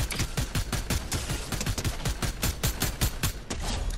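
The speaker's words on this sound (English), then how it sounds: "I hear shots." Dense, rapid gunfire from the video game Fortnite, a steady stream of loud overlapping shots with a few heavier bursts, continuous and busy throughout with no voices.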